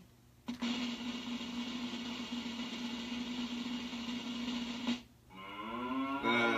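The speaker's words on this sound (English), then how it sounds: "There's your cow." A cow moos once in a long, steady, loud low call lasting about four seconds, followed by a brief pause and a rising tonal sound.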